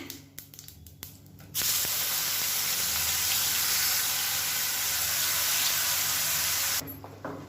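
Ground masala paste drops into hot oil with a sudden loud hiss and sizzle that fills several seconds at close range, then cuts off, with faint clinks before and after.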